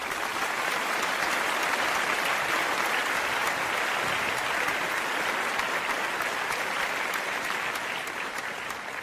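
Sustained applause from an audience, a dense, steady wash of many hands clapping for the full stretch, loud and even with no talk over it.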